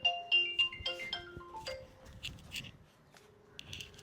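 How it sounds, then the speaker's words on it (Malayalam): Phone ringtone playing a short melodic tune, loudest at the start, then softer tones with faint background clatter. "അപ്പയുടെ ഫോൺ അടിക്കുന്നു"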